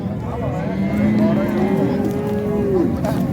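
A female calf lowing in a long, drawn-out moo at a livestock market in Khachmaz, close and loud, over the murmur of a busy crowd with people talking around it.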